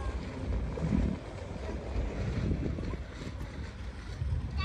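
Cool sea wind buffets the microphone on a pier in Alanya, a steady rumbling roar with gusty swells and faint ocean wash beneath, continuous throughout.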